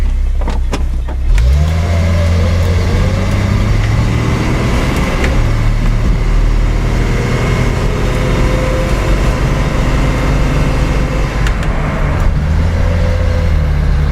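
A Datsun 280Z with an automatic transmission drives along, its engine droning steadily from inside the cabin with a soft whirr of a window rolling down near the start.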